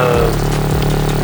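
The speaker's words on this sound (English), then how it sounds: "I'm letting the car run for a little bit." A car engine idles steadily, a low continuous rumble with a faint mechanical hum, running on its own without voices.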